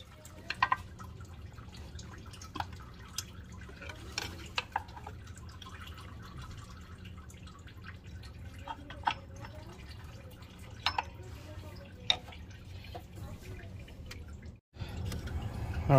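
Engine coolant drips and splashes irregularly into a catch bucket from a Honda, over a low background rumble, with scattered louder drops standing out.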